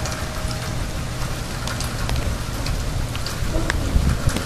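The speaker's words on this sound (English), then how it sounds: "Rain's getting stronger." Steady, dense rain falls on a street outdoors, a loud close hiss with scattered droplet ticks that builds slightly stronger toward the end, with no voices.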